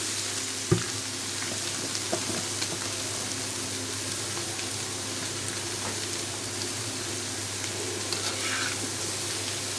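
Chopped ash gourd (chal kumra) with onion and green chili fries in a pan for an egg bhaji, a constant close sizzle with an occasional clink of the spatula.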